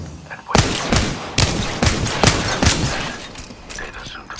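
Loud, close gunfire from a shooter game erupts in a rapid string of sharp bursts that keep repeating with a heavy thump beneath them.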